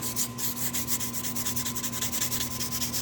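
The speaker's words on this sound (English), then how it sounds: "Just sanding this up, scuff it up a little bit, up to my mark." Steady rough sanding strokes rub back and forth without pause on a 3-weight fly rod blank, close up, over a faint constant electrical hum.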